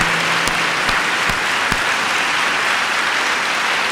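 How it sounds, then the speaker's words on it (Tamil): A church congregation claps loudly together in a dense, continuous burst of applause that holds steady throughout, with a few sharper individual claps standing out near the start. "கைகளை பலமாக தட்டி வரவேறுங்கள்."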